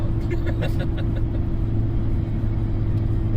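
A 2008 Chevrolet Silverado 2500HD 4x4 with a 6.6-litre diesel drives with a tire vibration, giving a steady, heavy low rumble that holds throughout, with brief voice-like sounds early on.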